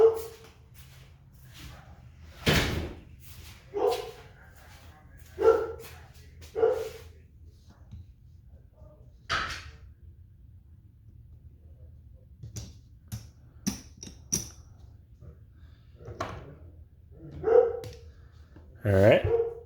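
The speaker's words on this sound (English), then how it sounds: "My dog is going crazy." A dog barks in short, loud bursts spread across the scene at a craps game, with quieter yips between them and faint talk in the background.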